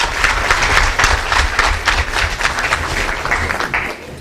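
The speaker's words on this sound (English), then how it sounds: "Round of applause" An audience at a community art exhibition in Drogheda breaks into a round of applause, clapping loudly and fairly briskly for a few seconds with some uneven bursts.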